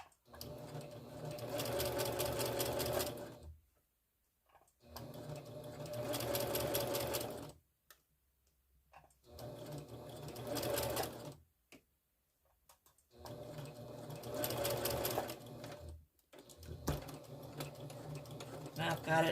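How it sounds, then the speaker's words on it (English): A sewing machine stitches a Japanese rice bag with a 1/4 inch seam allowance, running in four steady bursts of rapid stitching separated by short pauses, close and clear. "I'll do a back stitch at the beginning and ending."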